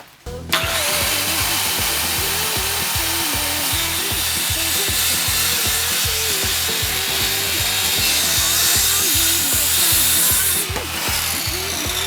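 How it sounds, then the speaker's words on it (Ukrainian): A Dnipro-M CS 185 M circular saw cuts wood at a 45-degree bevel, giving a loud, continuous whine with a rapid rhythmic chatter through the cut, then dropping off as the blade finishes. "тепер давайте перевіримо, як пила працює під 45 градусів"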